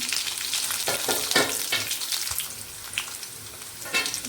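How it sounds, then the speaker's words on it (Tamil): Coconut, tamarind and small pieces of jaggery sautéing in a pan for a roasted peanut chutney, a soft steady sizzle with a few brief stirring scrapes and clicks, close and fairly quiet, no talking. "புளி அப்புறம் சின்ன சைஸு வெல்லம் எல்லாத்தையும் போட்டு ஒரு வதக்க வதக்கிட்டேன்"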